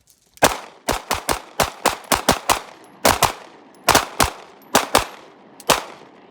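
Pistol shots from a Langdon PX4 ring out in a shooting drill, about fourteen sharp, loud cracks in quick irregular clusters with short gaps, each followed by a brief echo.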